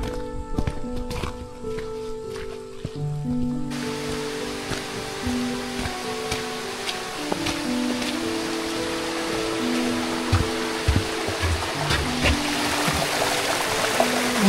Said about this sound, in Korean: 돌물이 졸졸졸졸